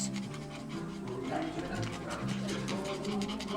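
A small dog pants quickly and rhythmically, close by, with faint whimpers in between, while a voice is heard quietly in the background.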